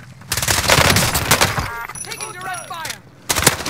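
Rapid MP5 submachine gun bursts in a first-person shooter game, loud and close with rattling volleys and sharp cracks, a brief lull, then another burst, while players talk over the action.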